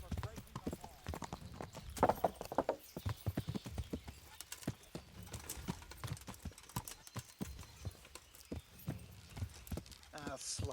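Horse hooves clip-clop in the video game Kingdom Come Deliverance, a quick uneven run of sharp hoofbeats that continues throughout, with bursts of voice and a snort over them.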